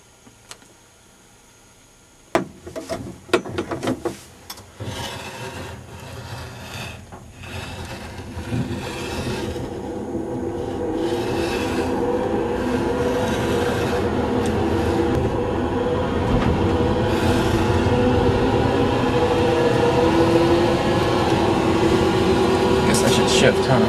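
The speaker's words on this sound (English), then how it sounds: "144 volt 500 amp motor controller test drive. This test drive is at 72 volts." Electric vehicle on a test drive with a home-made 144 V 500 A motor controller running at 72 V: a few clunks and bumps at the start, then a rumbling drive noise and motor whine that build and hold steady and loud. A voice is heard briefly.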